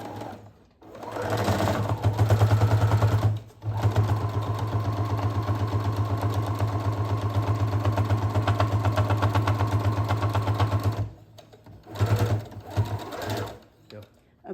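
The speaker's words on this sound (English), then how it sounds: "I'm going to sew a 1/4 inch seam along this edge." Sewing machine stitching a quarter-inch seam along the edge of a snap bag, a steady, close mechanical hum and rapid needle rhythm running for about ten seconds, starting and stopping, with brief pauses at either end.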